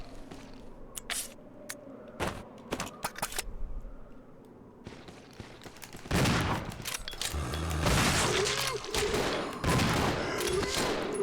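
Hunting gun blasts in the video game Resident Evil 0, several sharp booming shots amid game effects, growing into a louder dense burst of noise in the second half.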